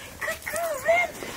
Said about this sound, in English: Jen, there's dogs everywhere!